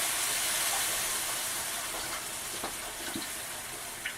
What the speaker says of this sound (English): I'm going to add a box of beef stock here to make our braising liquid